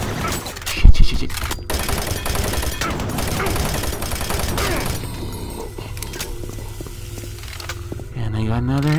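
Rapid, continuous chaingun fire in Doom 3 at Delta Labs, a dense mechanical rattle running for several seconds with a heavy thump near the start, mixed with game noise and whirring toward the end.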